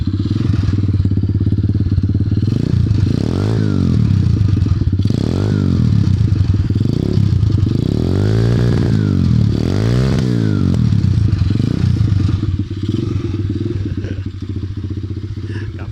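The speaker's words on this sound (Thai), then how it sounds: "สตาร์ทติดง่ายเลยทีเดียว ฟังเสียงท่อนิดนึง" A 125cc dirt bike engine idles loudly, then its exhaust revs up and down in several rising and falling bursts, close by.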